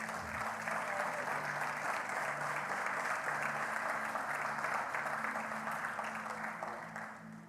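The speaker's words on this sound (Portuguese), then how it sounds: "Você pode aplaudir a Deus?" A church congregation applauds during a sermon, a steady wash of many clapping hands that holds evenly and fades slightly at the end, with faint voices underneath.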